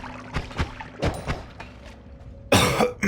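Several short coughs from a person playing the game Noita, spaced irregularly across a few seconds, followed by a louder burst of noisy game sound near the end.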